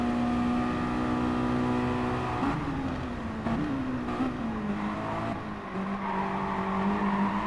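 Mazda MX-5 race cars in Gran Turismo Sport, engines droning loudly and steadily as one car draws alongside to pass, with pitch shifts as revs change.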